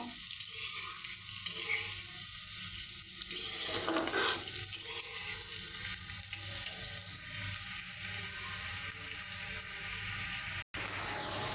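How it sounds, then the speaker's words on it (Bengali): Onions fry in oil until light brown, giving a constant, dense, close hiss of sizzling with occasional stirring noises that continues steadily before a brief dropout near the end. "পেঁয়াজটা আমি ভেজে হালকা বাদামি কালার করে নেব।"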